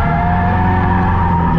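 A drift car skids after a clutch kick, a loud sustained tire squeal over a steady engine roar, close and continuous for under two seconds.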